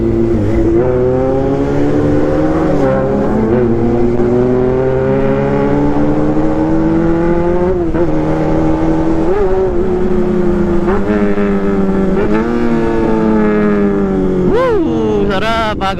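A 400cc inline-four superbike engine revs at a motorcycle show, loud and close, its pitch climbing and falling in repeated sweeps for the whole stretch, with some voices faintly around it.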